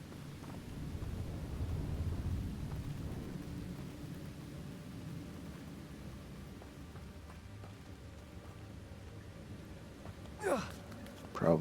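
Rain falling in a video game, a soft steady patter with low rumbling underneath, fading slightly before a couple of short sharp sounds near the end.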